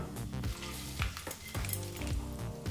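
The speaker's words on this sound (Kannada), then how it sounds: "ಈ ಒಗ್ಗರಣೆಯನ್ನು ಗೋಂಗೂರ ಸೊಪ್ಪಿನ ಚಟ್ನಿ ಜೊತೆ ಸೇರಿಸ್ಕೊಳ್ಳೋಣ" Loud crackling sizzle of a hot oil-and-spice tempering being added to gongura (sorrel leaf) chutney, with bursts of popping and stirring scrapes over about three seconds.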